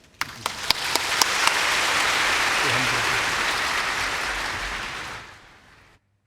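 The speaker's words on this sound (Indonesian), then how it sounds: "Mari kita tepuk tangan menyambut dia" A church congregation in Indonesia breaks into applause to welcome Pastor Ivan Kristiono at a Sunday service: a few separate claps open, then a dense, sustained wave of clapping fills the room for several seconds before cutting off.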